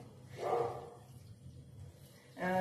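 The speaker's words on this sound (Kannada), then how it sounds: "ವ್ಲಾಗ್ ಮಾಡ್ಬೇಕಾದ್ರೆ ನಾಯಿ ಬರುತ್ತೆ." A dog barks twice, a short bark near the start and another at the end, with a quieter stretch between.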